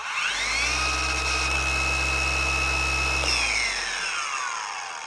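A DIY Detail cord-free 25mm dual-action polisher spins up, holds a steady whining hum for about three seconds, then winds down with a falling pitch, close and fairly loud.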